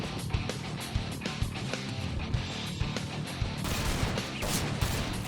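Rapid bursts of gunfire crack repeatedly over a dense, busy background in a video game, with shots clustered in quick volleys throughout.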